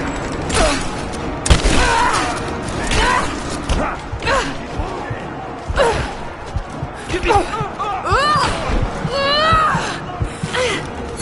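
Sustained gunfire in the Rise of the Tomb Raider video game: dense bursts of shots and impacts crackle throughout, loud and close, with shouted enemy voices and gasps mixed in.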